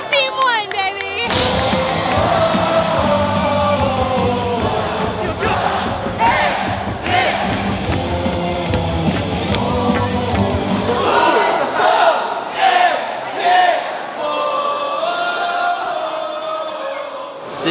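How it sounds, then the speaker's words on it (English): A packed stadium crowd at a Korean baseball game in Seoul cheers and chants loudly in rhythm, with amplified music and thumping beats running through the sustained noise. "The cheering never ends."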